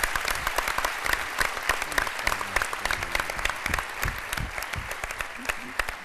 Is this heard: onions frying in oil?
no